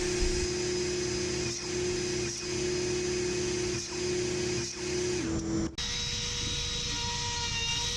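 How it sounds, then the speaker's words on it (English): Power tool, a router or sander, working the edges of wooden baby crib slats, a steady loud whine running continuously for most of the span, briefly cutting out near the end before resuming at a slightly different pitch. "And all of those had to be routed on the edges and sanded up to 220 grit."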